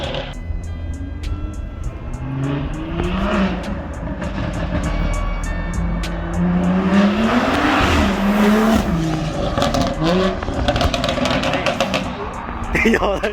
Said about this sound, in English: we just finished the install on the new exhaust and that shit is crazy louder than I thought it was gonna be